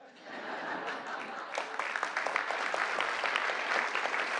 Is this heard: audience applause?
yes